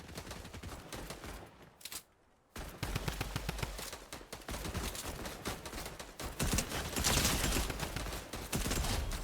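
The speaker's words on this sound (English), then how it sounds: "Now I got these two shooting at me." Rapid, dense automatic gunfire from a Fortnite battle, with loud bursts and crossfire rattling almost continuously, broken by a brief near-silent pause before the shooting resumes even louder.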